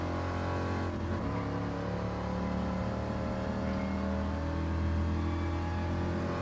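A car in a racing video game, set against a '69 Corvette C3, Viper and Ford GT, burns rubber with a continuous droning engine tone that shifts pitch, steady and fairly loud with no talk.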